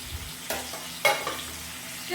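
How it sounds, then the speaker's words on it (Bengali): Cauliflower fries in hot oil, a soft continuous sizzle with a few sharper spatters and stirring scrapes heard up close. "ফুলকপি ভাজছি।"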